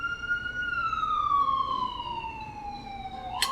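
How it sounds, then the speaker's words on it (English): A single emergency vehicle siren wails outside on a Brooklyn street, one long descending tone that fades as it passes, over steady traffic rumble, with a sharp click near the end. "Just waiting for the sirens to stop."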